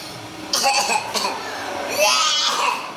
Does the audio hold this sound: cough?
yes